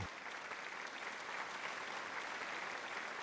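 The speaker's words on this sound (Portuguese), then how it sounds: "Dê um aplauso ao Senhor." Congregation at a Portuguese-language church sermon applauding, a continuous even wash of clapping heard at a distance and fairly faint, with no voices over it.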